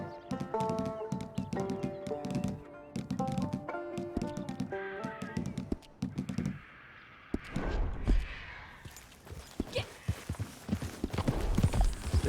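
Horse hooves clip-clop steadily while riding in the Red Dead Redemption 2 video game, with a faint musical backdrop and, toward the end, looser scuffing steps and rustle.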